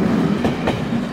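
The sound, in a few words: train passing at Aarhus Central Station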